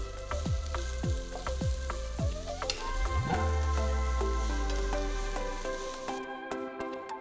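Sliced onion and green, red and yellow capsicum fry in a pan with a loud, steady sizzle, punctuated by ringing metallic clinks of a utensil stirring against the pan, with no talking.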